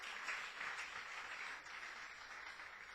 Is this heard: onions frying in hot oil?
no